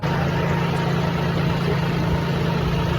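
A tractor engine runs at a steady, even drone with a low hum, heard up close and alone as it heads out to collect a new super seeder.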